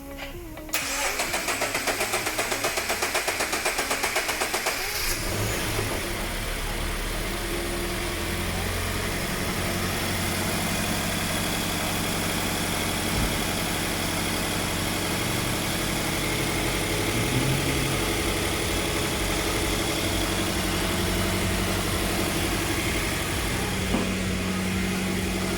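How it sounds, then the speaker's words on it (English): A car engine cranks over with a rapid starter whir, catches after a few seconds, then settles into a steady, close idle after an oil change. A brief voice is heard in the middle. "Gonna crank the engine a little bit."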